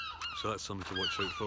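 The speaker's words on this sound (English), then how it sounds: "You can hear these seagulls in the background" Seagulls by the sea give a quick run of about six harsh, honking calls in the background while someone speaks over them.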